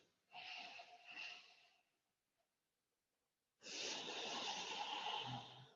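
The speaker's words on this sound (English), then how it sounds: "Go ahead and start to lengthen your breathing again." Slow, lengthened breathing during yoga relaxation, one long airy inhale or exhale, a pause of near silence, then another long steady breath, close and soft.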